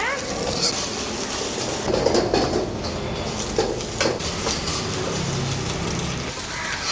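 Egg, onion, shredded cabbage, beans and carrot stir-fried in a pan for roadside-style chicken rice, giving a steady, dense sizzle with scraping and clattering throughout.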